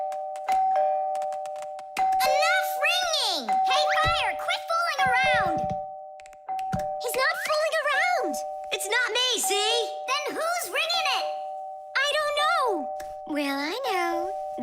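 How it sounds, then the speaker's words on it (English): Doorbell ringing repeatedly, its wires shorted together by fire, with a steady electronic tone running under animated cartoon voices talking excitedly throughout. "The doorbell's ringing because fire connected the wires together."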